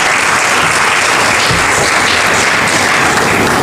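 An audience bursts into loud, sustained applause, a dense wall of clapping from a large crowd that fills the whole stretch without pause.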